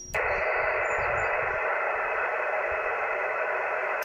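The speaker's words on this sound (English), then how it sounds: "sounds like somebody's tuning up on the frequency before we even get going" A loud burst of steady static and hiss on a 10-meter amateur radio frequency as someone tunes up, switching on abruptly, holding flat for about four seconds, then cutting off.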